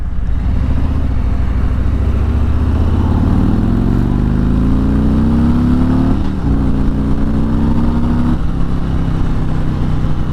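Harley-Davidson Road Glide 114 six-speed motorcycle engine heard while riding slowly, pitch rising steadily through the gears with shifts between; a loud, close engine drone under wind rumble, no talking.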